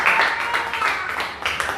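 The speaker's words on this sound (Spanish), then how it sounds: "Denle un aplauso al Señor." A church congregation applauds together after a call to praise, a steady wash of clapping lasting a couple of seconds at moderate loudness.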